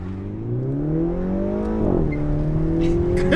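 A Mini Cooper S F56 fitted with a new OEM+ exhaust and 195-width tyres accelerates hard, its engine note climbing steadily and loudly up close, with a brief dip near the middle before it pulls on again.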